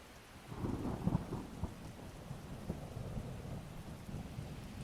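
A steady, heavy downpour of rain with rumbling thunder rolling low beneath it, continuous and close, with no voices.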